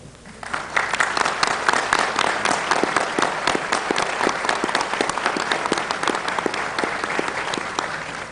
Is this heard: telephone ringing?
no